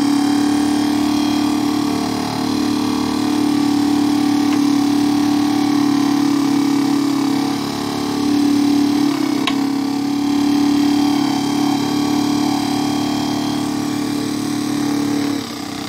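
A Gerard Morin pump motor running on 12 volts hums steadily at one constant pitch for the whole stretch, close and even, with small clicks and no voices.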